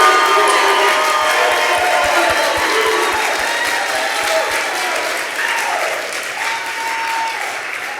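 Audience applause at a youth entrepreneurship competition, steady loud clapping with some cheering filling the whole stretch, slightly easing toward the end.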